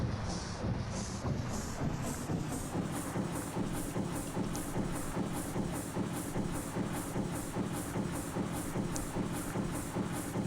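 A heavy steamship engine in a ship simulator game throbs at full throttle with a steady, pulsing bass rhythm and repeating mechanical beats, continuous and fairly quiet throughout.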